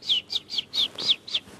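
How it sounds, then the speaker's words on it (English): High, bright cheeps repeat in a quick, even series, about seven sharp peeps from chicks, close and clear with no talking. "And her chicks say"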